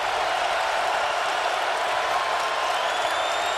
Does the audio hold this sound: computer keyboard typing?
no